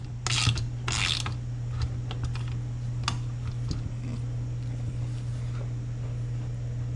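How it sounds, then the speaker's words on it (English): A ratchet tightening bolts while fitting a clutch, a couple of quick buzzy bursts of clicking near the start followed by scattered single clicks over a steady low hum. "we'll take the old ratchet and we'll ratchet that"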